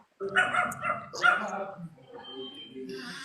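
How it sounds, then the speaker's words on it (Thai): A dog barks repeatedly in short bursts indoors, close and fairly loud, mixed with whimpering yips while people talk over it. "อันนี้ไม่เคยหยุดเห่าเลยนะคะตัวนี้"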